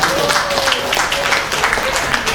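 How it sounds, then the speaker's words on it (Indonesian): Applause from the audience at a family halal bihalal gathering, honouring the organizing committee: a dense, steady patter of clapping through the whole stretch, moderately loud and close, with a faint tone running beneath it. "tepuk tangan untuk panitia"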